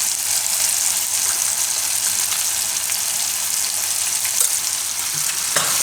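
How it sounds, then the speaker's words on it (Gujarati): Ground spices (turmeric, coriander, Kashmiri red chilli) sizzling in hot oil with tomato, a loud continuous frying hiss with light stirring scrapes, no talking. "આ બધું મિક્સ કરી લઉં મસાલો તેલમાં ટમેટાની અંદર"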